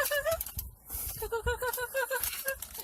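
A voice imitates the odd, unusual call of brown leghorn chickens with a series of quick, repeated high warbling clucks in a bouncing rhythm, close and fairly loud.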